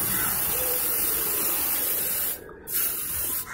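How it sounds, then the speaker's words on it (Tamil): A spray paint can sprays in a loud, continuous close hiss, briefly cut off near the end before the spraying resumes. "நான் அதை ஸ்ப்ரே பண்ணுறேன்"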